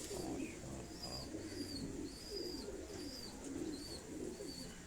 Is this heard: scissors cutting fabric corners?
no